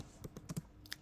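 Several quick key presses on a computer keyboard while typing C++ code, a short burst of soft clicks close up and quiet, with no talk.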